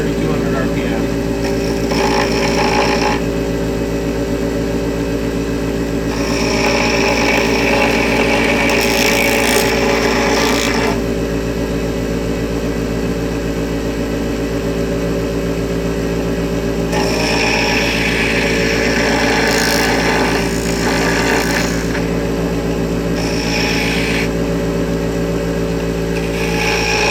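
A wood lathe spinning at its top speed of 3,200 RPM, turning a blank meant for a fishing lure: a steady loud hum and whir throughout, with intermittent scraping bursts that sound like tool contact.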